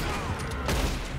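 A short burst of gunfire in the western game Red Dead Online, a sharp shot cracking out over a steady background din, brief and fairly close.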